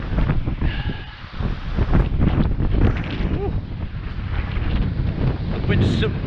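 Strong gusty wind roars across the mic at the seashore in Lilstock on the Bristol Channel near high tide, a loud constant buffeting that swells and eases in gusts, with faint whistling tones.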